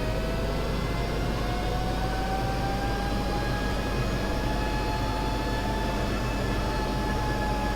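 A Texan trainer aircraft in a flight simulator gives a steady, droning engine and airflow roar with a slowly rising whine, continuous and even throughout.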